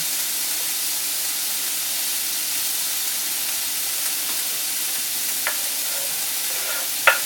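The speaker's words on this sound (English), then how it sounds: "Actually, I'm stirring it too much." Food in a hot pan sizzles loudly and continuously at close range, with a few faint scrapes and clicks from stirring and one sharp utensil tap near the end.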